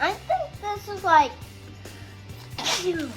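A single sharp sneeze bursts out mid-scene at a fast-food milkshake tasting, following children chatting about their shakes, with talk continuing around it.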